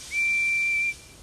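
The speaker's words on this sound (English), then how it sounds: "He whistled hello to Harry and Bert." A small cartoon steam engine gives one steady, clear whistle lasting most of a second at a freight yard by a smelter, loud and alone with no talk.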